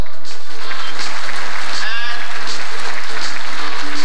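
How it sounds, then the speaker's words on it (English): A gala crowd at a Chinese business association's New Year evening gives a loud round of applause, a continuous dense clatter with voices and crowd chatter mixed in, captured at high, nearly saturated level. "let's give a round of applause"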